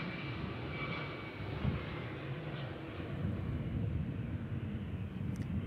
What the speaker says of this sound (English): Oh, that was a smooth landing right there.